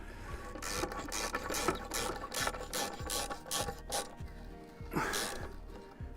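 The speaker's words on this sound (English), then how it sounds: "We're just in the process of screwing them in now with a ratchet." Ratchet driving screws into timber while fixing a post to a wall, giving a steady run of rasping clicks and scraping strokes up close, with no talking.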